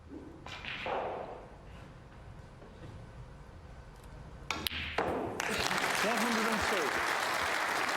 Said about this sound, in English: Stand by for the cheer.